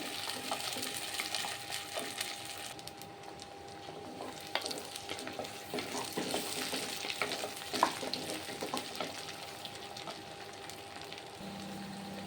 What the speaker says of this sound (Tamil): வெங்காயம் நல்லா பொரிஞ்சு வந்துருச்சு